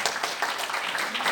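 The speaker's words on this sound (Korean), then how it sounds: "우리 모든 것을 털어버리고 한 뜻으로 갈 수 있도록 박수 한번 했으면 좋겠습니다." An audience at a meeting of a conservative group held in the National Assembly building in Yeouido claps in a brief, fairly soft burst of mixed applause with no talking.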